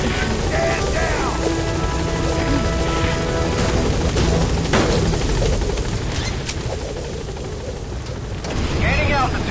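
In Metal Gear Solid 5, a helicopter thrums steadily and loudly over a dense game soundscape, mixed with distant gunfire bursts, rumbling explosions and short radio-style voice chatter.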